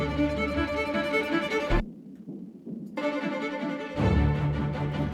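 Bursts of harsh synthesized white noise through a filter, played percussively, with a brief gap of near silence in the middle before the hits resume.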